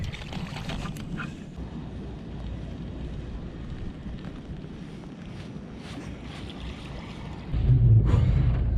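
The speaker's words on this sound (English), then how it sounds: "The wind picked up really bad, and snow and everything starting to fall quite badly now." Strong wind roars across a lake as snow falls, a constant rumbling rush that buffets the microphone and swells into a louder gust at the end.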